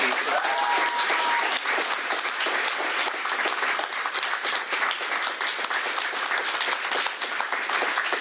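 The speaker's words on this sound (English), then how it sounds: "one more round of applause for Governor Jay Inslee" Loud, dense applause from a room full of people at a press conference, honoring Governor Jay Inslee; continuous clapping holds steady throughout with a brief faint voice near the start.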